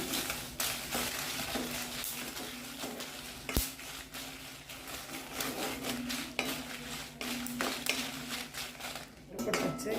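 A handful of dried red chillies, stems removed, tumbles into a dry pan for homemade rasam powder. Steady scraping and stirring follows, with light clinks of a spoon against the metal and occasional rattles close by.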